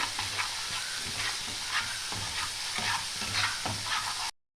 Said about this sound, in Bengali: একটু কষিয়ে নেব এটা।